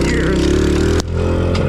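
A cheap Temu dirt bike engine running steadily with a loud, continuous droning note, then a brief sharp dip as the throttle drops before it drones on again.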